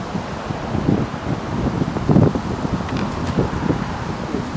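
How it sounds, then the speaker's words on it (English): Wind blowing outdoors buffets the microphone in uneven rumbling gusts, with a faint rustle behind it. "The wind coming from this way."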